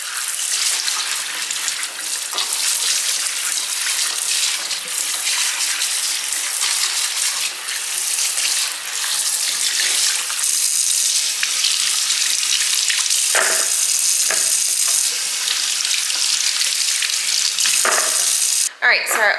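Fresh garden okra pods washed under running water in a sink, a continuous close splashing hiss with occasional clattering knocks of pods, loud and steady throughout.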